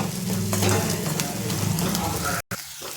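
Chopped onions fry loudly in a pan for spicy pasta, giving a steady close sizzle with stirring scrapes throughout and a brief cut near the end.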